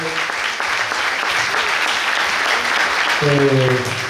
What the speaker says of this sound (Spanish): nuevamente pido un aplauso